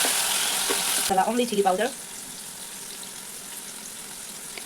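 Mushrooms frying in a pan for a spicy Naga dish, a steady hiss of oil filling the first second before a voice speaks briefly over the quieter ongoing sizzle.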